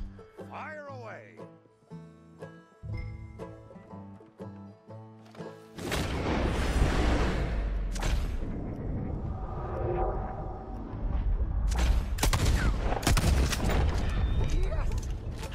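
Video-game gunfire in Red Dead Redemption 2 bursts into a dense, loud run of shots and crashes over the second half, following an opening stretch of music-like tones.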